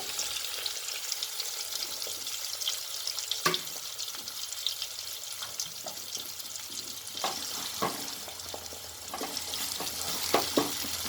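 Chopped tomatoes with green chillies fry in a pan for upma, a steady close sizzle broken by scattered clicks and scrapes of stirring, with no voices.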